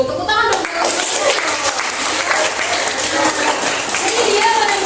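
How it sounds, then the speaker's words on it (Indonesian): Students in a classroom clap together in a short burst. The clapping is close and fairly loud, with children's voices and chatter mixed in throughout. "Tepuk tangan dong."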